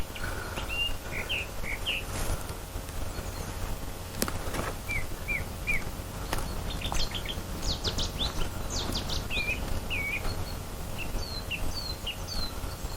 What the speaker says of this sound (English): there's lots of little birds dipping in and dipping out of the reeds on the banks